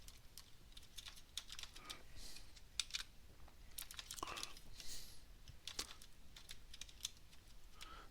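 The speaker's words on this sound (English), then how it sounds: "you can watch my appallingly bad typing" Irregular bursts of computer keyboard typing, quick clicky keystrokes close by, pausing briefly between runs of keys.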